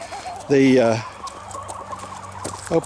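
A chicken gives a loud, drawn-out cluck up close, followed by quieter clucks and rustling in the background.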